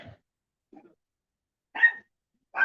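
Dogs, one of them a miniature Australian shepherd, give a few short, sharp barks separated by silent gaps, with two louder, nearer barks toward the end.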